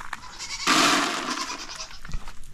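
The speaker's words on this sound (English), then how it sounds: "Let's throw some over here for the goats." Goats bleat loudly at feeding time on a small farm, one long strained call breaking out and then tapering off, with softer shuffling and a brief thump near the end.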